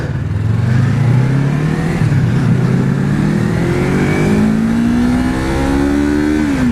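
A Yamaha R3 sport motorcycle with a 300cc engine revs loud and close, its pitch climbing steadily through a sustained run with no voices over it.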